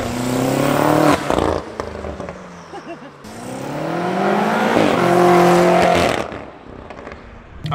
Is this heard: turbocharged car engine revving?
yes